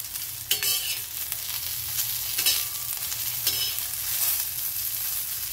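Green chillies with cumin seeds stirred in an oiled frying pan, with a loud continuous sizzle and a few sharp scraping strokes of the spoon against the pan, close up and without talk.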